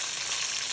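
Rice frying in a pan with garlic, scallion and salt, a steady bright sizzle that stays even and close for a brief moment, with no voice over it.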